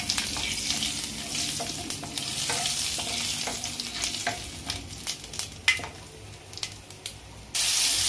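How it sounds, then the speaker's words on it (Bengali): Dried red chili and a bay leaf frying in hot oil in a wok, giving a loud, steady crackling sizzle with scattered sharp pops throughout. "রান্না করার জন্য তেল দিচ্ছি কড়াতে। এতে আমি একটু শুকনো লঙ্কা, একটা তেজপাতা দিচ্ছি।"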